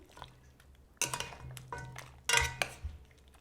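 Stewed chicken is stirred in a pot with a utensil, producing a few sharp metallic clinks and scrapes against the pot's side in two short bursts over a quiet low background.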